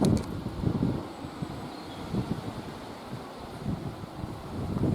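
Gusty wind rumbles against the microphone in uneven bursts in a garden, rising and falling over a steady rushing background.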